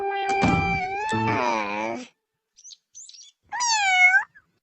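Meowing calls ring out in a Doraemon cartoon, a long drawn cry followed by softer short mews and another rising meow; the voice may be a person imitating a cat.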